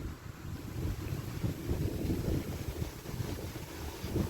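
Strong outdoor wind on a walk near Périgny blusters steadily into the microphone, a rough, rumbling low roar that swells and eases with the gusts, with no talking.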